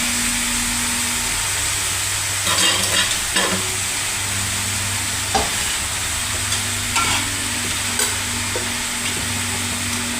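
Food fries in a pan with a constant loud hiss, broken by a few scraping stirs of a utensil and a low steady hum underneath.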